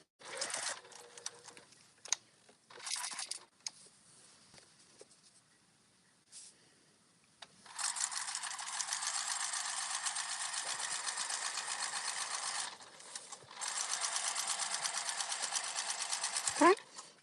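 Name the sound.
sewing machine top stitching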